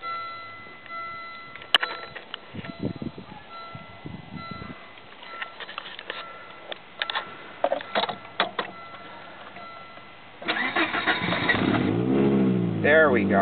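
A 1996 Volvo 850 that has sat unstarted all day: scattered clicks and ticking, then the engine catches and settles into a steady, close, loud running sound.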